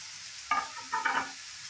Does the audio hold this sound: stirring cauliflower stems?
yes